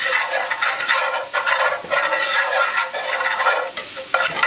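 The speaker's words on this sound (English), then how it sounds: "Add our flour now to make our roux, our white roux." Flour is stirred into melted butter in a pan to make a white roux, giving a continuous close scraping and sizzling sound with rhythmic strokes of the spoon and no talking.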